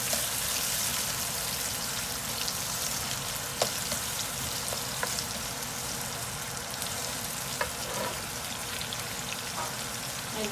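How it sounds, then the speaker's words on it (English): Bitter gourd (karela) and shrimp fry in a pan with a steady, dense hiss and crackle, broken now and then by small pops. The sizzling is close and even throughout, with no talking. "And we're gonna leave this to start fry up."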